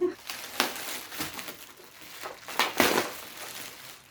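Crinkling and tearing of packaging by hand, with a few sharp rips and rustles standing out over quieter handling noise.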